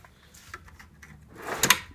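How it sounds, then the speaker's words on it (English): A metal drawer of a US General five-drawer service cart rolls along smooth ball-bearing slides with a soft rumble, ending in a short clack as it shuts. "the drawers are all ball bearing slides"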